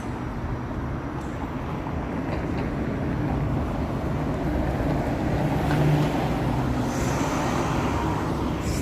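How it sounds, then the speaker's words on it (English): TTC number 7 bus rolling north up Bathurst Street in Toronto on a sub-zero evening, a steady low engine and road rumble that swells slightly as it passes, with no voices. "It's the number 7 bus heading north up Bathurst."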